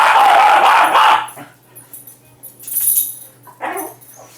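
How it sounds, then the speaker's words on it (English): Pet dogs bark and yip during play in a home, a loud burst of barking at the start followed by quieter scattered yips and whimpers. "Excuse my dogs, they're playing."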